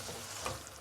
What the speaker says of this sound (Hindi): 2 टेबल स्पून आपने सुरख मिर्चें ऐड करनी है, और अच्छी तरह इसकी भुनाई करनी है।